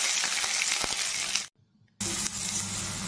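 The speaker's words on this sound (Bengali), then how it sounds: "পেঁয়াজ কুচিগুলো হালকা ভেজে নেব, বেশি ভাজবো না" Chopped onions sizzle in hot oil in a pan with a steady, close frying hiss that cuts out for about half a second midway, then resumes just as loud.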